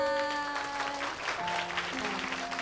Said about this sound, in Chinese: 好，我们掌声给这些孩子们。